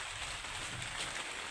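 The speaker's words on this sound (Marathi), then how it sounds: "आज तर पावसानं 4 वाजतापासूनच झडी लावून दिली" A steady downpour of heavy rain falling outdoors on a farm, a soft, even, continuous hiss that is fairly faint and unbroken, with no voices.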